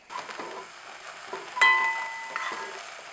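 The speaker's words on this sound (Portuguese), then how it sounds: "Vamos usar um fio de azeite de oliva. E refogar o alho" Garlic sautés in a drizzle of olive oil in a pan, with a close sizzle, soft clicks and stirring scrapes, and a brighter hiss swelling midway.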